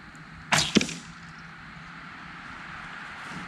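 An arrow loosed from an S.A.S Recon Survival Bow snaps off the string and strikes hard almost immediately, two sharp cracks close together, followed by quiet outdoor background.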